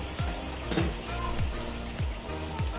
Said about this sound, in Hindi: थोड़ा सा इसके अंदर मैं पानी डालूंगी, हल्का सा बिल्कुल